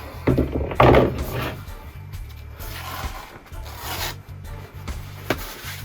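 Skateboard wheels are rubbed clean of skatepark dust by hand, giving close, uneven rubbing and scuffing strokes with a few light knocks.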